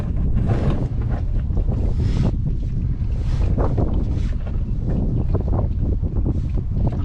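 Gusty wind roars across an outdoor microphone while a backhoe is serviced, a loud, steady buffeting rumble that runs unbroken through the whole stretch with no talking.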